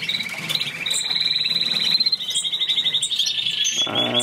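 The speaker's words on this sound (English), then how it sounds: "I've got some new colors in, new colored canaries." Canaries in a bird room chirp and trill in quick, rapid runs of high notes, close and fairly loud, with several birds overlapping.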